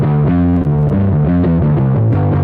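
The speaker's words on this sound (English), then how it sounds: "let's say I turn down the treble all the way, but I leave the distortion up. I'll turn the mid and the treble down all the way." Heavily distorted electric guitar through an amp with treble and mids turned all the way down, a loud, dark, bass-heavy riff of chugging notes shifting pitch in a steady rhythm, with no talking.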